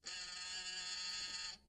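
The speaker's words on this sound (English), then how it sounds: "so that's a buzzer sound" A radio morning show's buzzer sound effect gives a single steady, harsh electronic tone lasting about a second and a half, clean and alone.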